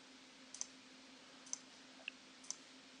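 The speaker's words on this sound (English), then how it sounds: "I can just click a few times" Computer mouse clicks while working in Photoshop, four sharp, isolated clicks spaced about a second apart, close and quiet over a faint steady hum.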